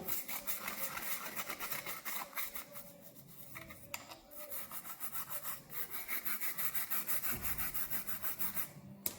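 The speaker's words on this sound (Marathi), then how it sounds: "ब्रशनी छान असं घासून घ्यायचं जे काही काळं मेनकट झालेलं असतं ना एकदम खराब ते सगळं निघून जातं" A brush scrubs a kitchen strainer to lift off black, burnt-on grime, producing steady back-and-forth rubbing strokes in a quick, continuous rhythm, close and moderately loud, with no talking.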